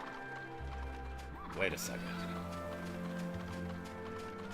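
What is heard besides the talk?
horse neighing and hooves, video game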